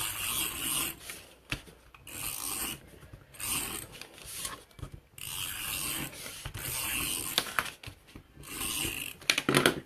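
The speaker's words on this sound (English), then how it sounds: "we're going to take the tape runner all the way around." A tape runner drawn around the edges of a paper gift bag, giving close, quiet rubbing and scraping strokes in repeated bursts with short pauses between them.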